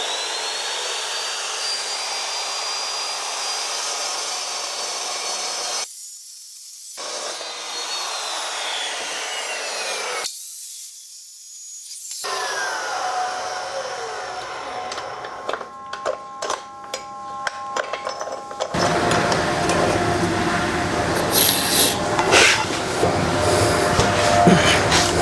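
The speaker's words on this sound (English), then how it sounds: "we're going to use the diamond chop saw to cut the tubes out" A diamond chop saw slices through steel roll bar tubing for a Willys build. It gives a loud, sustained whining cut broken by two short pauses, then turns into a harsher, rattling grind toward the end.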